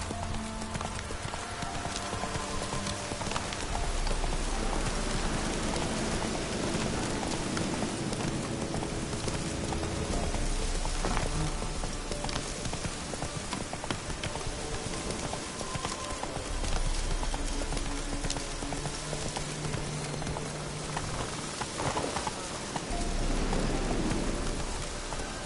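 Roach, a horse in The Witcher video game, clip-clops steadily through steady rain, hoofbeats close and rhythmic over a continuous wash of raindrops, with a faint rumble of thunder in the background.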